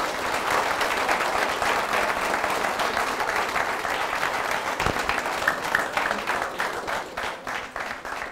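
A studio audience at a tournament draw breaks into sustained applause, a dense, even wash of clapping that holds steady for several seconds before thinning slightly at the end.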